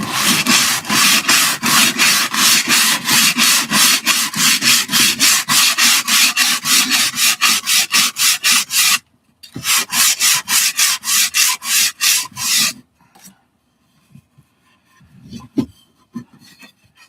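Wood being sanded by hand for a cat feeding station shaped like a picnic table, with steady rhythmic scraping strokes that are loud and close, then a brief pause, more strokes, and quiet handling noises at the end.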